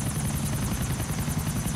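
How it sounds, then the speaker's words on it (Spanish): A helicopter in the video game GTA IV gives a steady, loud, close rotor thrum and engine buzz throughout, alone with no talk. "¡Toma helicóptero!"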